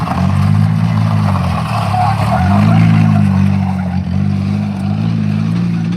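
Car drifting at Minami Course during the Autumn Matsuri: a loud, sustained engine drone with rising and falling pitch as revs swing through a slide, continuous for several seconds at close to mid distance.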